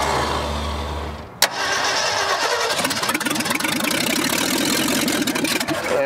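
A 1965 Ford F100 engine, long buried and with sticking valves, cranks and nearly catches: a brief starter churn, a sharp clunk, then rapid rhythmic cranking that stays loud without firing.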